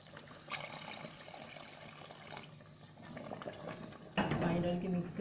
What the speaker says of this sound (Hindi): हम इसमें आधा कप पानी डाल देंगे।